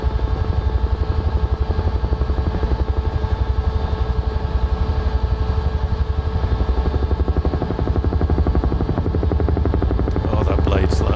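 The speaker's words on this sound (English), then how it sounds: "Oh, that blade slap." A UH-1H helicopter in Microsoft Flight Simulator, its rotor blades slapping in a steady, loud, rapid thump that persists unbroken over a constant turbine whine.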